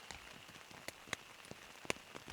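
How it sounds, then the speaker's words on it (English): Heavy rain on a tent at night: scattered raindrops tap and patter, faint and irregular, with a soft steady rain hiss underneath. "I love the sound of rain on a tent."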